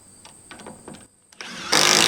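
A power drill driving screws into a house structure under construction, heard as short mid-range whirring bursts followed by a louder, sustained high-pitched grinding run near the end, close and fairly loud.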